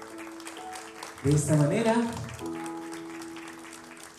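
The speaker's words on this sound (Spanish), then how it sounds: "la vamos a recibir fuerte los aplausos, por favor" Applause from guests at a quinceañera party in Lima, Peru, swelling briefly under a host speaking Spanish over a microphone, with a steady crowd murmur throughout.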